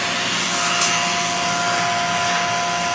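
An E2 1.5 rotary vacuum pump on an Agilent 6890-5973N GC/MS system runs steadily nearby, a constant whirring drone with a faint fixed tone and no pauses.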